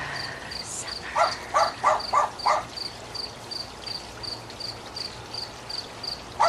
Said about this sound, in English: There's a cricket. You hear him?